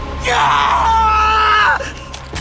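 A woman trapped inside a sleeping bag hung over a fire pit lets out a long, loud, strained scream for help in a horror film, sustained for over a second before cutting off.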